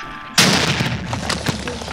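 A Minecraft cannon goes off with a sudden sharp boom, followed by a rattling tail of smaller pops and crackles that trails away over the next second and a half.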